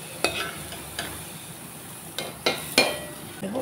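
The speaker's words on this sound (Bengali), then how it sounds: "এখন দিয়ে দিচ্ছি ডালটা হাঁড়িতে।" Oil-fried dal scraped and tipped into a cooking pot, a few sharp clanks and scrapes of a spoon against metal over a steady soft sizzle, close and fairly loud.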